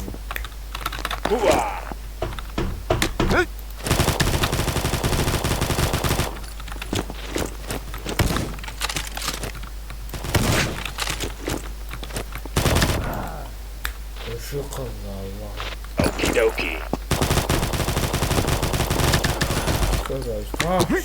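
Rapid gunfire and bursts of shooting from the first-person shooter Combat Master, mixed with loud, close keyboard clatter and footsteps, while a player talks over the action throughout.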